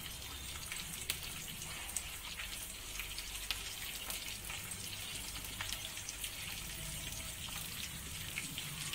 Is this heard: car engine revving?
no